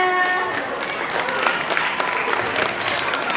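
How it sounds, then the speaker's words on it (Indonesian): A classroom of students claps together, a moderately loud patter of many hands with a few sharper claps and some faint voices mixed in. "Tepuk tangan semuanya"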